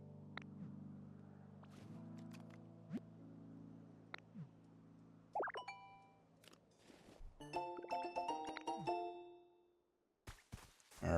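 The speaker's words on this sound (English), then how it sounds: "just drop the bell, ring it," A bell rung to summon Lugia in the Pokémon Pokopia video game: clear tonal chimes and ringing tinkles ring out over a soft game backdrop, growing busier with bright metallic strikes before a brief silence and a final burst.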